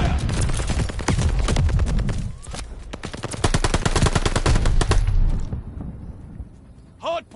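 Rapid automatic gunfire rattles around a contested hardpoint in an online shooter match, with dense bursts of shots and mechanical clatter for about five seconds before fading to near quiet, then a brief voice.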